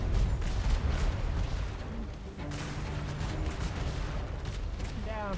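Ship guns fire in a naval battle video game, heavy booms and cracks mixed into a dense, noisy battle din, with brief voices underneath.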